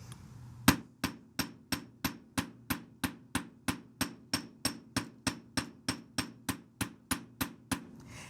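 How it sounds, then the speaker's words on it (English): A texturing hammer taps a wire pendant resting on a metal block in a steady run of about twenty sharp metallic strikes. The blows are evenly spaced, close by and heard with no talking. "I'm so excited about this hammer. I want to show you the texture you can get if you use some of the other heads."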